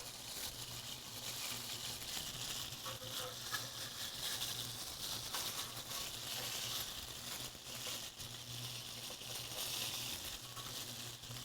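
A lamb burger patty sizzles in a frying pan, a steady dense hiss and crackle that stays close and even throughout with no break.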